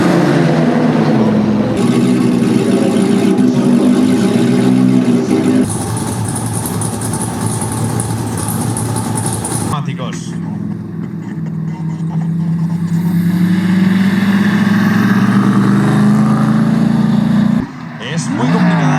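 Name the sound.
BMW car accelerating at ice drag race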